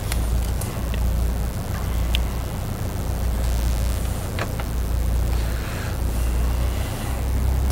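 A light aircraft in the X-Plane 11 flight simulator runs its engine at full takeoff power, a steady loud low drone with a constant hiss on top, no talking over it.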